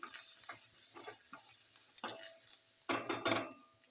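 Spice tempering for toor dal in a pan: quiet scattered sizzles and utensil clinks at first, then a louder crackling burst of sizzle near the end, heard close and without talking.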